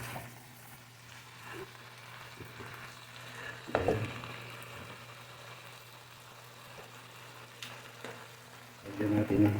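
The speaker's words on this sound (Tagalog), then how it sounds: "ihalo ko na yung mga talong na liwak na maliit" Chopped eggplants stir-fried in a pan over a steady low hum, with occasional scrapes and clinks of a utensil, one sharper knock near the middle, and louder sizzling stirring toward the end.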